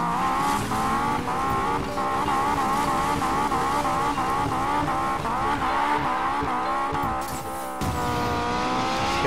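A car drifts in the video game Need for Speed Payback, with a loud revving engine rising and falling under long, continuous tire squeals.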